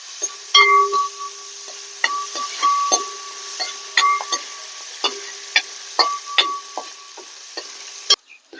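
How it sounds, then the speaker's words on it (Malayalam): Chopped green chillies, curry leaves, ginger and garlic sizzle in a hot pan for a tomato pickle while a spoon scrapes and taps against the pan repeatedly, close and clear over a steady frying hiss. "അരിഞ്ഞു വെച്ചിരിക്കുന്ന കാന്താരിയും വേപ്പിലയും ഇഞ്ചിയും വെളുത്തുള്ളിയും കൂടെ ഇട്ട് കൊടുക്കാം അതൊക്കെ നമുക്കൊന്ന് ഇളക്കി കൊടുക്കാം"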